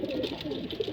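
Racing pigeons cooing in a steady, close, low murmur of overlapping coos with no talk, the birds just back from training flights.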